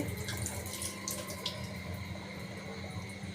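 Steady running tap water splashes continuously into a sink as boiled pasta is rinsed under cold water, with soft rinsing and no voices.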